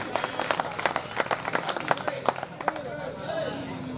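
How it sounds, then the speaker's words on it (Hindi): A crowd at an All India Mushaira poetry gathering in Dharampuri applauds with dense, quick clapping under murmuring voices, and the clapping thins out toward the end. "एक बार जोरदार तालियां बजा दें मुशायरा कमेटी के लिए।"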